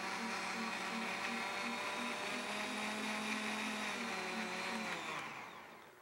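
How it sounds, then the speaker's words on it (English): A blender whirs steadily and loudly while blending pineapple juice with spinach, holding an even pitch for about five seconds before spinning down at the end. "we're blending it real short"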